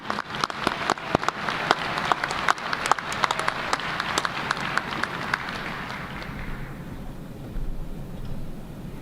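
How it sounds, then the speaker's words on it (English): A commencement audience gives award winners a round of applause, dense hand clapping at close range that holds steady for several seconds and then gradually thins out and fades. "Let's give our three Meek Award winners one last round of applause."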